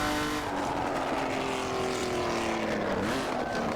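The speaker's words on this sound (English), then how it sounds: "That engine sounds so nice on the overrun. Just some nice bangs and gurgles for you." Jaguar XJ13 racing engine in Assetto Corsa droning steadily on overrun, its pitch sliding slowly downward, with faint crackles and gurgles mixed into the continuous exhaust note.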